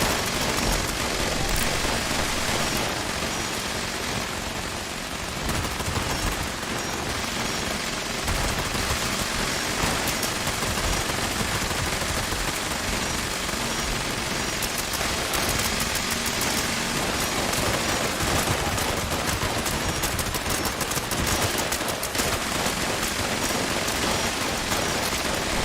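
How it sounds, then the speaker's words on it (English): Minigun and revolver fire in the online game Fallout 76, a continuous dense barrage of rapid shots and bursts with no pauses, loud throughout. "Miniguns going. Somebody's using a bloody revolver."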